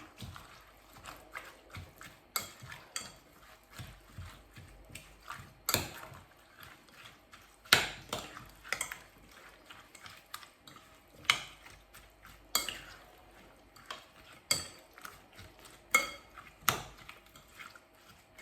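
A cucumber salad dressed with sauce is stirred in a bowl, producing soft irregular scraping and clinking strokes of a utensil against the dish, close and fairly quiet.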